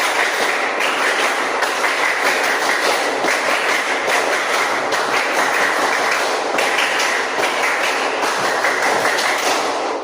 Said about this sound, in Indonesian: 3 kali tepuk pramuka